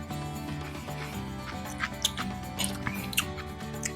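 Close crunchy bites and chewing of a homemade spicy garlic dill pickle, several sharp crisp snaps over a soft background hum.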